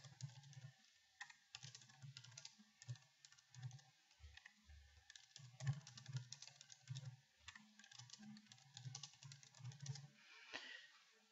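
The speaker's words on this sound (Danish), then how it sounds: "Og nu skriver jeg min tekst." Keystrokes on a computer keyboard as text is typed into a word processor, a steady run of close, soft clicks in irregular bursts with brief pauses, no voices.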